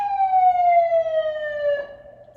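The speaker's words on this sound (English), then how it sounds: "as the sirens go off" A siren wails loudly in one long descending tone, then cuts off abruptly near the end, leaving faint background rumble.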